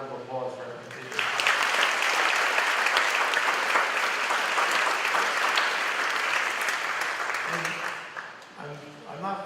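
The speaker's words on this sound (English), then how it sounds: "they deserve another round of applause for everything they did" A baccalaureate ceremony audience breaks into a sustained round of applause that swells from about one second and holds steady for several seconds before fading, with a voice heard briefly before and after.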